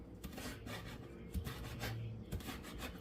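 A knife chops fresh cilantro on a board for guacamole, giving a steady rasping, scraping rub with a couple of sharper thuds near the cutting surface, close and moderately loud with no talk.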